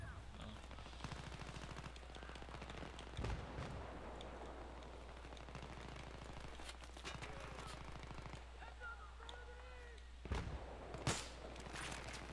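Rapid bursts of Battlefield 3 gunfire in a Team Deathmatch on Noshahr Canals crackle through a steady background hum, with a couple of sharper, louder shots near the end.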